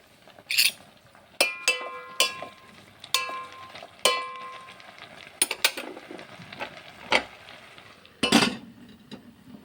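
Bottle gourd leaves with salt, chili and turmeric are ground into a paste, giving irregular sharp knocks, scrapes and clacks at close range, repeating unevenly with no speech.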